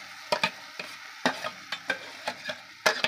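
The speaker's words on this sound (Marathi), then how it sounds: "ती भाजी आता मी फोडणीला घालते." Finely chopped vegetables for pav bhaji stirred into hot tempering, a low sizzle broken by sharp spatula knocks and scrapes at irregular intervals, close and alone.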